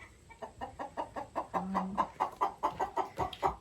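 A Sumatra hen clucking close by in a steady run of short, rhythmic clucks with a brief drawn-out note partway through, alone without talk.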